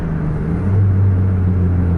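Two Scania buses hold their engines at high RPM during a head-to-head duel. A loud, steady low drone swells slightly partway through and carries on without any talk.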